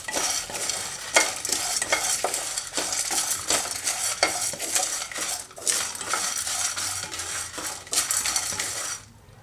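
Chana dal, urad dal, dried coconut, cumin and fenugreek dry-roasting in a pan are stirred with a metal spoon, giving dense clattering scrapes and rattles of seeds against metal. The stirring stops abruptly at the end.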